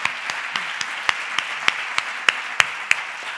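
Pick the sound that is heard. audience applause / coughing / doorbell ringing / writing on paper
audience applause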